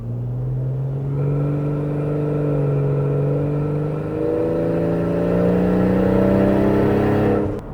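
A turbocharged Barra car engine drones and climbs steadily in pitch as it accelerates hard, a loud continuous rising roar with no voices.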